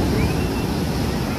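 Sea waves wash steadily close by with broadband rushing roar and wind buffeting the microphone, continuous through the short stretch with no clear talk over it.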